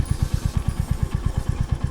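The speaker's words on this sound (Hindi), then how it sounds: "तो गाइस यहाँ से इनको बाइक चलानी है" Motorcycle engine idling close by, a steady low thumping pulse at an even, rapid rhythm with a faint mechanical clatter on top and no voices.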